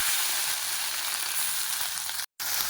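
Ground onion paste frying in hot oil in an outdoor village kitchen beside a Sundarban pond, a loud, steady, close sizzle that cuts out briefly near the end.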